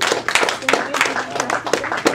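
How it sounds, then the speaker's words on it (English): A round of clapping from an audience, dense and lively with sharp hand claps, close by. "let's thank one more rousing round of applause for Dave."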